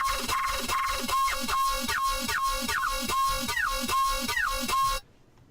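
A Serum synth bass patch pulses rhythmically while an LFO modulates its master tune, so the pitch swoops and dips at varying moments. It plays steadily for about five seconds, then cuts off abruptly, with no talking.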